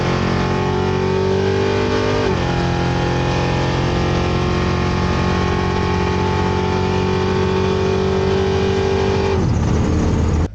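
Drag racing car roaring loudly and continuously through a run on a bracket racing strip, with a steady engine drone, a gear shift near two seconds and another change toward the end.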